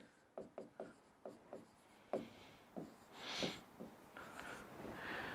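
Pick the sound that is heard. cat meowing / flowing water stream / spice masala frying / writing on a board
writing on a board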